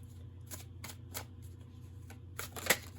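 Tarot cards are riffled and flicked in a few quick bursts, soft papery snaps spaced across a quiet moment, with one sharper slap near the end.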